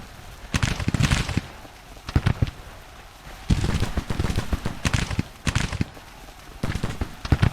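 Volleys of Mississippi rifle fire in the Civil War strategy game Grand Tactician, loud ragged bursts of many shots cracking together, repeating in clusters a second or so apart with brief lulls between them.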